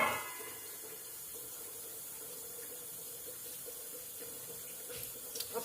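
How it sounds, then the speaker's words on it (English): Tap water runs steadily into a water filter, a constant faint hiss of flowing water with no voices and a few small clinks near the end. "I'm just filling the water filter"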